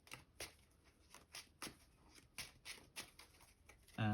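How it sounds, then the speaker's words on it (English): A deck of trading cards is shuffled by hand during a Necroface deck test, giving a quick run of crisp riffling bursts at an irregular rhythm, close and fairly quiet, with no talking. "Give a quick shuffle."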